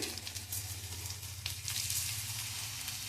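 Soaked rice frying with chopped onions in a hot pan, a steady close sizzle running unbroken throughout, with a few faint scrapes.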